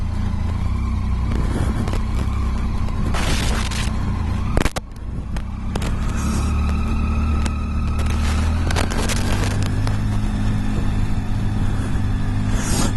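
A motorbike riding through the streets of Cambridge: steady, loud engine rumble with changes in revs as the bike turns around, plus a sharp knock midway and passing road noise.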